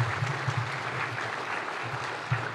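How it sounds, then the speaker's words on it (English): Audience in a hall at the official opening of Kenya Innovation Week claps for the President, a steady dense applause that holds at an even level across the whole moment. "Ladies and gentlemen, a round of applause to His Excellency, the President."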